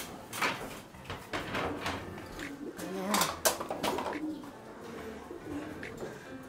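At a racing pigeon loft during a derby, soft pigeon cooing and wing flutters sit among scattered knocks and door or trap rattles, with people talking quietly nearby.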